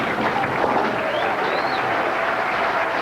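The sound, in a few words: crowd applauding at a bowling tournament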